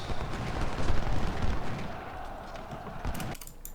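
Massed gunfire and cannon fire rage in the Civil War strategy game Ultimate General, a dense, continuous rumbling barrage that stays loud and then thins out near the end.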